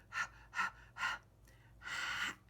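A voice imitates panting for the letter H, three short breathy gasps in a quick rhythm, a brief pause, then one longer drawn-out breath, close and fairly quiet.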